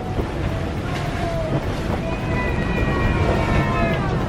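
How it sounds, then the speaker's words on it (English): Strong wind of about 30 knots roars steadily across a sailboat in the British Virgin Islands, a broad rushing wash with buffeting on the microphone, water noise beneath and faint whistling tones. "It's blowing like 30 knots of wind"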